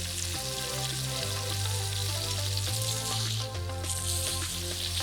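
Salmon fillet pan-frying skin side down in a hot pan, a steady, dense sizzle that fills the whole stretch with little change, heard alone without talk.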